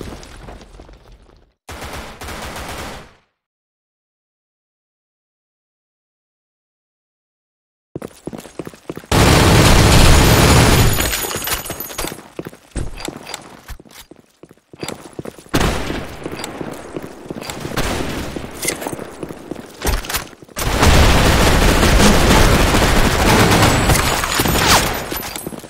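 Gunfire in a first-person shooter video game: loud bursts of rapid shots and booming blasts come in dense clusters, broken by a stretch of complete silence near the start.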